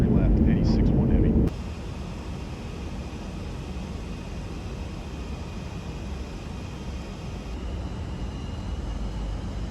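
An E-4 aircraft landing on runway 23 left: a short burst of voice-like sound at the start, then a steady, broad jet roar that holds evenly to the end.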